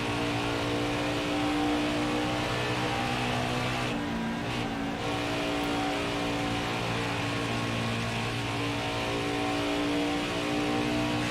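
A race car engine at Indianapolis in NASCAR Heat 5, a loud, steady, droning roar that holds at constant pitch with a brief dip partway through.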